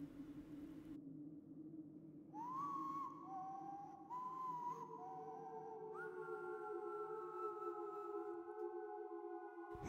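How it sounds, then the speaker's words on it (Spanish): High-pitched whistle tones sound faintly over a low, dull rumble. They come in one after another, each holding steady or climbing a step higher. The later tones stretch out into long sustained notes. "Era un silbido agudo."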